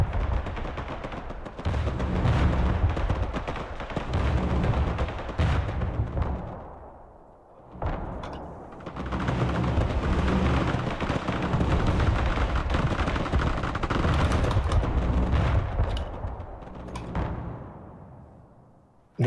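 Artillery fire in the military strategy video game Broken Arrow, a near-continuous barrage of loud booms and gunfire rolling over many seconds, with a short lull before resuming heavily.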